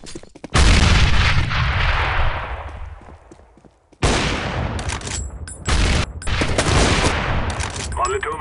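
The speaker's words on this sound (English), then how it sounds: "Grenade out." Grenade explosions in Counter-Strike: a loud, booming blast rolls into a long fading rumble, then a second heavy blast follows, with rapid gunfire crackling over the aftermath.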